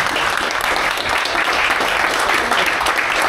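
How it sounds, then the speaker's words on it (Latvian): A room full of people applauds Māris at a press conference, steady close clapping that holds at even loudness for the whole stretch. "aplausi Mārim"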